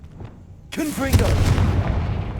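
A Confringo fire spell bursts in Hogwarts Legacy on PlayStation 5: after a faint lead-in, a sudden loud blast erupts and rolls into a sustained crackling, roaring rumble.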